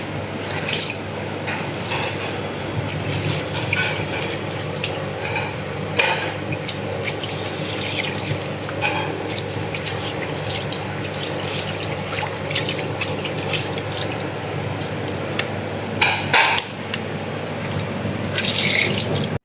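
Water running steadily from a tap while hands are washed with soap, a continuous close splash with small drips and squishy hand rubbing, with brief louder spurts near the end.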